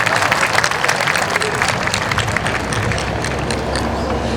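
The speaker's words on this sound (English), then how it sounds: "I think we should give God a round of applause for this great weather today." A crowd at a 2015 commencement ceremony applauds steadily and fairly loudly throughout, with a dense wash of clapping mixed with faint crowd murmur.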